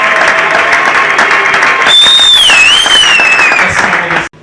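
Steady applause from a church conference audience in a hall, loud and continuous throughout with a long sustained whistle over the middle, cutting off abruptly at the end.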